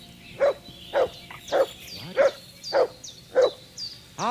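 Dog barking in a video game: seven or eight evenly spaced, moderately loud barks roughly every half second, standing alone without talk over a quiet game backdrop.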